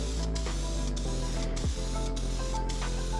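Aerosol can spraying a coat of nightshade tint onto a Mustang's fog lights, a continuous close hiss broken by a few brief gaps as the nozzle is pulsed, with no voices.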